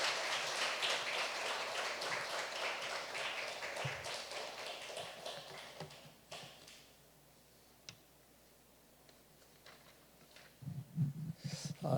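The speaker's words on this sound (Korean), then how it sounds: "박수로 목사님 모시도록 하겠습니다." Church congregation clapping to welcome a pastor to the pulpit at a special early-morning prayer service, a loud sustained round of applause that fades out midway, leaving a quiet room with a few scattered taps and shuffles.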